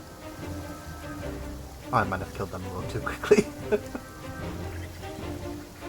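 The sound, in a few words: rain in a video game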